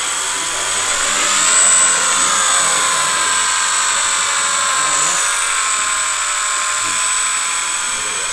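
A Blade 150 FX RC helicopter flies nearby with a loud, steady high-pitched whine of spinning rotors and motor, the pitch wavering slightly as it maneuvers.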